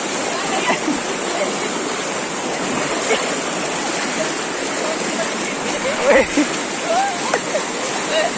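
After a heavy downpour in Solapur, a loud, continuous rush of floodwater pours out from the sugarcane fields, with occasional splashes and voices chatting close by.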